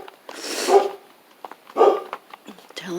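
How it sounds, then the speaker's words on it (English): A dog barks twice from somewhere behind a garden, two separate bursts with a short gap between them, with faint rustling and a few soft ambient sounds in between. "Dog behind us."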